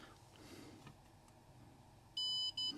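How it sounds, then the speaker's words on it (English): A multimeter's continuity-test beep while probing a dk'tronics ZX Spectrum keyboard board, a short steady electronic tone, then a brief second one, close, after near silence. "So if I just test for continuity quickly,"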